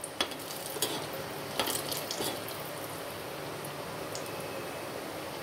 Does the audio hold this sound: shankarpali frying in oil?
yes